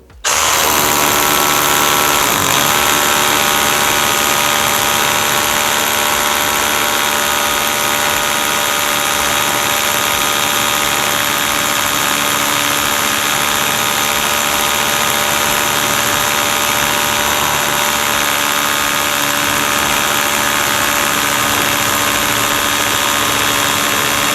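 A Vitals Master ARa 1618-2P SmartLine cordless rotary hammer with a 10 mm bit drills continuously after a quick start, a loud, close, sustained whine and rattle that holds steady for the full stretch.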